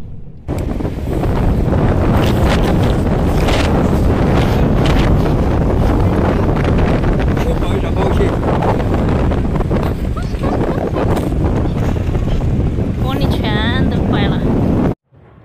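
Strong sandstorm winds in Turpan, Xinjiang, roaring loud and steady against the microphone for most of the clip before cutting off sharply at the end.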